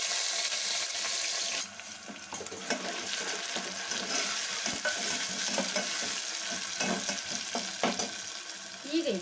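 Masala paste frying with onions on low flame in a pan, a steady close sizzle with scraping stirs throughout and no talking.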